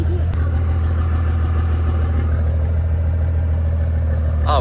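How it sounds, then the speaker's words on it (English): A golf cart engine idles close by, giving a steady, loud low rumble that holds without a break and stays even throughout, with a faint rising tone near the end. "Drive the golf cart."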